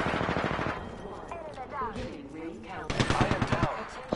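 Enemy gunfire in Apex Legends comes in rapid automatic bursts, one at the start and another near the end, with a voice speaking over the middle stretch.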